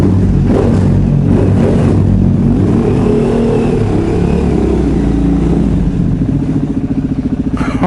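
A supermoto motorcycle engine close by, loud and rumbling, revving up and down repeatedly before settling into a steady, rapidly pulsing idle.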